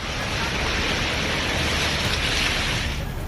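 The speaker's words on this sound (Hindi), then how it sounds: "बारिश ने रोकी रफ्तार, बाढ़ से हुआ बुरा हाल" Heavy rain pouring down during flooding, a loud, dense and unbroken broadband roar close at hand.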